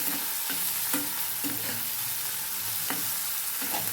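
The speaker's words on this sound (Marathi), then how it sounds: "एक छोटा चमचा हळद टाकायची आणि हे छान हलवून घ्यायचे" An egg mixture with turmeric is stirred in a frying pan, giving a continuous sizzle with regular, close scraping strokes of the spoon and no talking.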